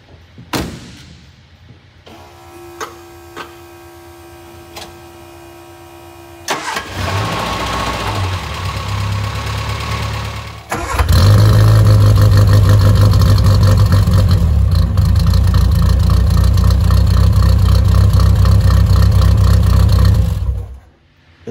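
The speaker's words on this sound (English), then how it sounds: "Next car is a 1966 MG Midget." A restored 1966 MG Midget cold-starts after some cranking, then settles into a loud, steady idle that runs close and uninterrupted for about ten seconds before cutting off.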